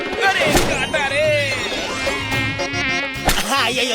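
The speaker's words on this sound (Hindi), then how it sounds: "मैं वो मच्छर को मारती।" A cartoon mosquito whines with a steady high buzz for the whole clip, close and prominent, while animated voices speak and exclaim over it, broken by a couple of sharp slap-like hits.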